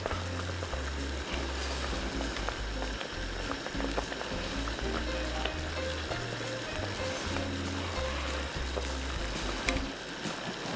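Crawfish étouffée bubbles at a boil in a pot, a continuous dense bubbling and sizzling with scattered pops, steady and fairly close throughout with no talking.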